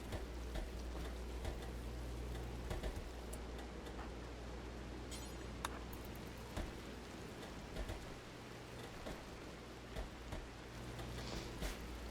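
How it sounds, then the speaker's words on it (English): Soft, steady rain patter from the video game RimWorld, a faint continuous hiss with scattered light drip-like ticks and no talking. "It is raining and the leaves don't like that."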